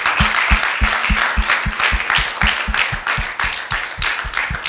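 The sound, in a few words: congregation applause for church workers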